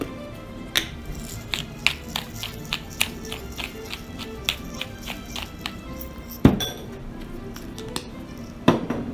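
A spoon clinks and taps against a bowl as balut egg salad with mayo and black pepper is stirred, giving irregular sharp knocks over a soft background, with no talk.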